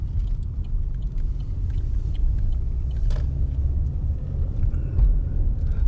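Car interior on Victoria Street in downtown Dartmouth, with a steady low road rumble and engine hum as the vehicle moves through town, plus scattered small rattles and clicks.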